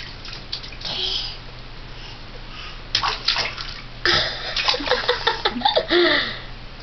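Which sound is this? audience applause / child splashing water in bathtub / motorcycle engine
child splashing water in bathtub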